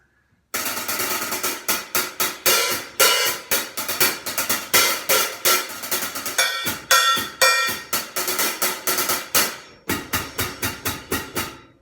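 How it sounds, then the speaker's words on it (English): 14-inch Zildjian A8X-style accelerator hi-hat cymbals played in a quick, steady pattern of crisp chicks and washy open strikes, close and loud, with a short break near the end. "14-inch A8X accelerator hi-hats sound like this."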